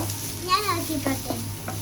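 Tender jackfruit stir-fry being stirred in a pan, a close, continuous sizzle with scraping strokes of a spoon, and a faint voice briefly in the background.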